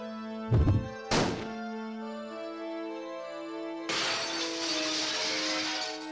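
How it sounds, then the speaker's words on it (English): In the Nintendo DS game Theresia, a crossbow bolt strikes a searchlight with two sharp impacts, followed by a sustained bright shattering crash and a lingering ringing hum, with no talk. "Bolt shatters the light, and in the sudden darkness I hear the pieces fall to the floor."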